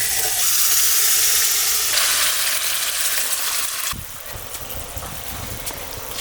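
Water goes into hot fried spice paste for a rupchanda fish curry, producing a loud, rushing sizzle and hiss that drops in level partway through and settles into a softer bubbling fry.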